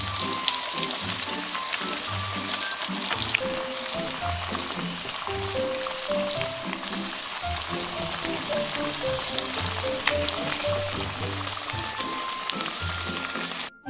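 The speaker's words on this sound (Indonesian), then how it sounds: "Lepas tu, kita boleh goreng ayam yang kita rasa tadi tu." Spicy chicken deep frying in hot oil, a loud, continuous crackling sizzle that holds steady throughout, close up with faint background voices.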